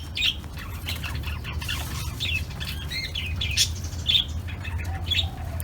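Zebra doves (merbok) give short, bright chirping calls that recur every second or so over a steady low hum. The calls are moderately loud and somewhat distant, with no clear wingbeats.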